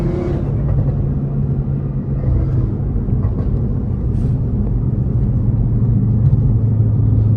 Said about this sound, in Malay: Dia bawa kereta.